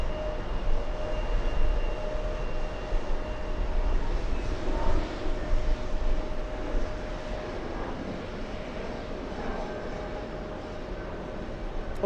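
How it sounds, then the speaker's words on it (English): Singapore Airlines flight 24, an airliner on the world's longest route, passes high overhead near New York's TWA Hotel as a continuous distant jet roar, swelling slightly then easing, heard alone without talk. "Singapore 24, the world's longest flight, flying above us."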